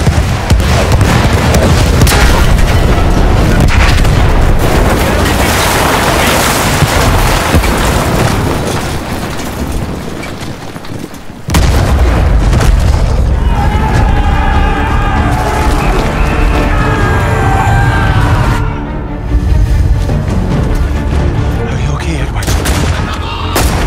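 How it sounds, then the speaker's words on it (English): Loud, dense artillery blasts and gunfire in the World War I shooter Battlefield 1, booming almost continuously, with a brief lull midway before the barrage resumes; voices shout over the chaos. "Artillery!"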